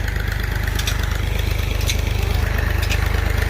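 A tractor engine driving a village tube well pump throbs steadily and loudly with an even, rapid pulse, with faint clatter on top and no break for the whole stretch.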